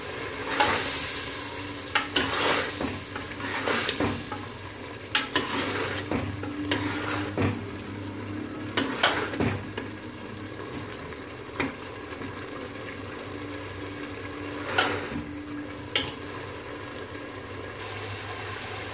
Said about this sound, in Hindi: चनों की भुनाई हमने बहुत अच्छे तरीके से कर ली है।